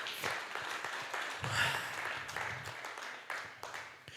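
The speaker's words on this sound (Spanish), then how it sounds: "Denle un fuerte aplauso a nuestro Dios." A church congregation applauds during a sermon, a soft, moderately dense patter of clapping with slightly stronger bursts, fairly distant and steady throughout.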